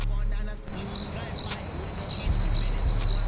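Chirping crickets played as a comedic sound effect for an awkward silence, a steady high trill in regular pulses, fairly loud and close, with no talk over it.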